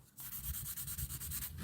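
Light sanding skims across the edges of a surface in a quick series of soft, rhythmic rubbing strokes, close and quiet, with no talking.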